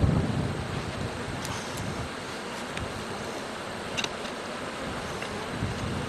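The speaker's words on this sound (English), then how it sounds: "So windy," Gusty wind buffets the microphone beside a beehive in a steady, rumbling roar, strongest at the start, with a few faint clicks and knocks underneath.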